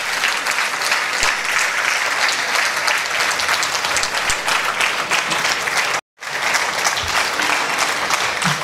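Loud, dense applause from a Tamil-speaking humour club audience welcoming a guest poet-scholar to the stage, steady and sustained, with a brief cut near the end before the clapping resumes.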